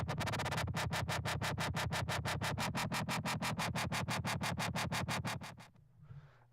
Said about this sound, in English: dirty, nasty dubstep bass in Reason.